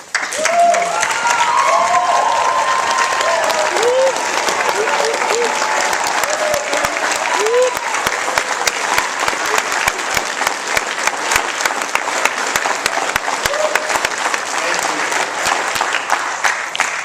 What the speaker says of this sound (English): would you all stand just one more time and clap for this sitting down front